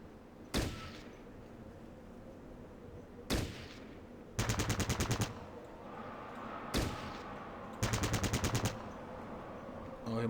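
Gunfire from the character Farsight in Fallout Tactics, with single sharp shots alternating with two rapid automatic bursts, loud and distinct against a quiet game background.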